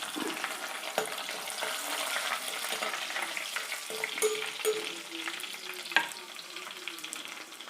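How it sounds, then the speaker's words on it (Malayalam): Curry leaves dropped into small shallots frying in oil, a steady crackling sizzle with a few sharp pops and light stirring clinks, close and moderately quiet. "ചെറിയ ഉള്ളി മൂത്ത് വരുമ്പോഴേക്കും കറിവേപ്പില ഇട്ട് കൊടുക്കാം."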